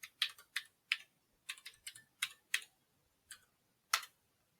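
Password being typed on a computer keyboard while setting up Ubuntu Server 20.04: about a dozen crisp, close key clicks in short irregular bursts with brief pauses, alone in a quiet room.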